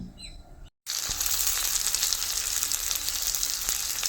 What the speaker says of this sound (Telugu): ఆయిల్లో వేసుకొని మంచిగా వేపుకోవాలండి ఇలాగా